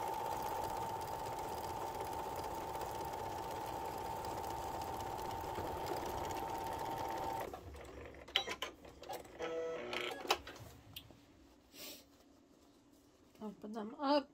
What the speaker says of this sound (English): we're going to sew these right up